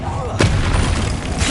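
A Bombarda explosion spell goes off in the Hogwarts Legacy video game, a sharp blast at the start followed by a rumbling roar, with another burst near the end over dense continuous game noise.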